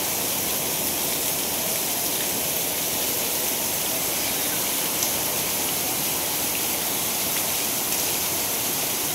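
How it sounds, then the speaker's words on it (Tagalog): Heavy rain pours during an afternoon thunderstorm, a dense, steady hiss of downpour that stays even and unbroken throughout, with no voices. "Lakas ng ulan."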